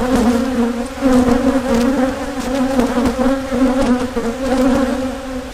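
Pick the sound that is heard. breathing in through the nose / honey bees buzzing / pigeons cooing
honey bees buzzing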